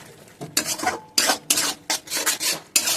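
Spices being stirred and fried for a Bengali fish bone curry, with dry chilli, salt, turmeric and ground cumin-coriander in a pan: repeated rasping scrapes of a spatula in bursts, close and fairly loud, with no talk.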